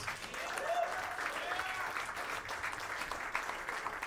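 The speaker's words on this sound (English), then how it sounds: "while we're clapping" Comedy roast show audience clapping steadily at a live event, a sustained, full round of applause from a crowd in the room with no one speaking over it.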